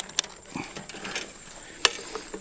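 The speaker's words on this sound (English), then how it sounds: "I'm tightening this until my slip knot gets up here to the end of the strainer" Barbed wire on an H-brace fence is tightened by hand with a strainer, giving quiet mechanical creaks and two sharp metallic clicks heard close by.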